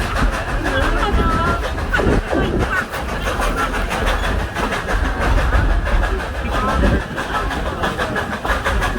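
The Dollywood Express, a coal-fired steam locomotive built in 1950 by Baldwin Locomotive Works, rumbles along with a steady, fairly loud clatter of wheels and cars and no voices.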